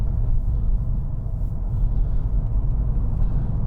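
A 2016 Volvo V40 Cross Country D2 with a 6-speed manual gearbox drives on tarmac, heard from inside as a loud, steady low road-and-engine rumble with no talking.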